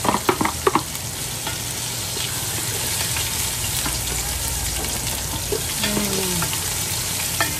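Onions fry in a pan for dinuguan, a dense continuous sizzle with a few sharp clinks at the start and light stirring scrapes; no one speaks.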